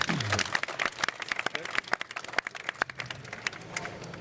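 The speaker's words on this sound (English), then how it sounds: "Everybody, big clap, please." Audience applause at a packaging industry debate panel, a burst of scattered hand claps that thins out over a few seconds, fairly close and moderately loud with no talk over it.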